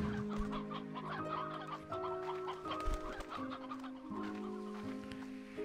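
Chickens in the video game Slime Rancher 2 cluck steadily in overlapping bursts, soft and close over a continuous faint game background, with no talk.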